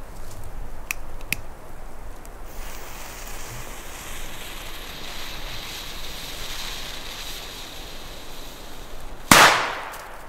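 Outdoors, one PGE D-Böller firecracker goes off with a single sharp, loud bang late on, a short ringing tail fading into steady quiet background hiss.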